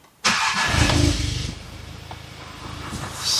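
A VW Golf 7 GTI Performance with an intake manifold flap fault (P200400) cranks and fires with a sudden loud start, briefly flares, then settles into a steady close idle.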